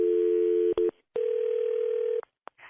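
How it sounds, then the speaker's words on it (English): A telephone call: a steady dial tone, broken by short button blips, then a long continuous ring tone and a few brief clicks at the end, close and clear, with no talk. "Okay, it's ringing"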